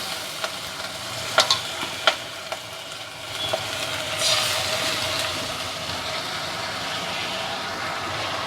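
Amaranth (ponnaganti) leaves hit a hot curry pan, with a few sharp clacks followed by a steady, close hiss of frying that swells and holds.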